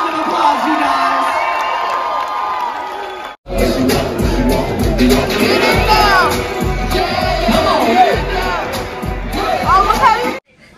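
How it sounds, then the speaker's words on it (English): A crowd cheers, whoops and claps at a rainy-day deck party moved indoors to a cruise ship atrium, loud and close, breaking off briefly before a second burst of shouting and clapping. "Give them a big round of applause, you guys."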